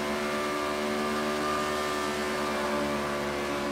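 Racing car engine at full throttle in the F1 2019 video game, a steady, loud, high-pitched whine with tightly stacked harmonics holding constant through the bend, no voices over it.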